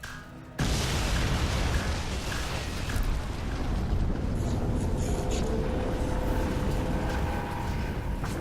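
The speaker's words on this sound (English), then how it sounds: "Warning. Explosion imminent." In Crysis 2, a game explosion erupts with a sudden heavy boom, then a sustained roaring rumble of debris and fire that stays loud and dense, with scattered bursts and metallic crackles.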